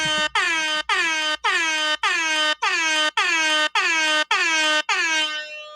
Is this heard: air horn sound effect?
yes